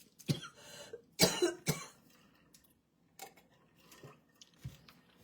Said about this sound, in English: I don't know where this cough came from all of a sudden